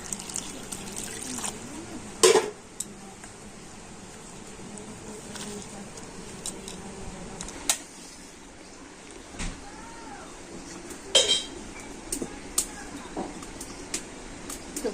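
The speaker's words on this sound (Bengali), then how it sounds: "এখন আমি এই শাকটা জল দিয়ে ভালো করে ধুয়ে নেবো" Leafy greens, picked with their flowers, are rinsed in water, giving intermittent splashes, drips and sloshing bursts over a quiet kitchen background.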